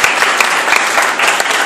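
Applause for the jury members at the Miss Prestige Réunion pageant, a dense, steady burst of many hands clapping from a nearby crowd with a few sharper individual claps standing out.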